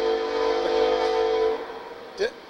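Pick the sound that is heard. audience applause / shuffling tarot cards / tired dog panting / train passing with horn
train passing with horn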